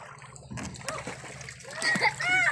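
Sea water splashes at a beach in the Philippines after a typhoon, with close sloshing and splatter building toward the end, while people talk and a voice is heard.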